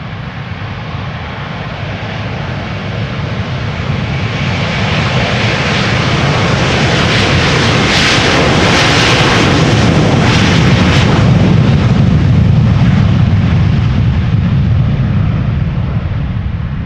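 A Delta Airlines Airbus A330 jet departs Schiphol, a loud, close, continuous engine roar that builds steadily as the aircraft passes, with a hissing rush peaking midway and a deep rumble growing toward the end.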